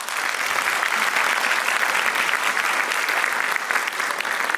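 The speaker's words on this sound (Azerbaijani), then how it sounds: "xüsusi alqışları, xüsusi təşəkkürü mən Həsən üçün istəyirəm" Steady, dense applause from an audience at an event on inclusivity, honouring a young man named Həsən who shared a favourite poem on stage; sustained clapping fills the whole stretch at even loudness.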